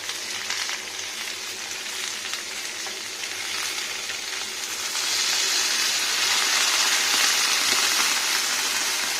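Water poured into a pan of frying potato and pointed gourd sets off steady, loud sizzling that grows stronger and more hissing halfway through, with no talking.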